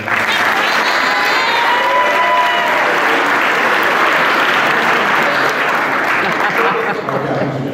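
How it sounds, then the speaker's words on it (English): Loud, steady applause fills a crowd at a school athletic awards ceremony, with cheering and scattered shouts rising over the clapping throughout. "So a quick round of applause."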